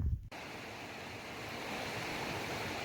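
A river flowing past hot springs gives a steady broadband rush of water, constant and moderately faint after a brief thump at the start, with no voices.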